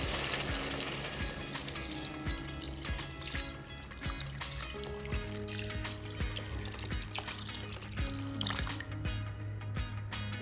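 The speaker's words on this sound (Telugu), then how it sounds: "రెండు గ్లాసుల రైస్కి నాలుగు గ్లాసులు నీళ్ళైతే పోసుకుంటున్నానండి" Water trickles and pours steadily into a pot of rice for vegetable pulao, with small clinks and splashes over a low background hum.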